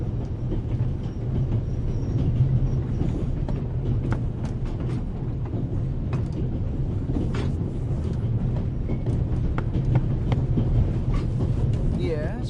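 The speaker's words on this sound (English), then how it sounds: "The noise on this train is driving me crazy." Loud, constant rumble of the Orient Express rolling along the rails in The Raven Remastered, a dense low drone with faint clattering over it throughout.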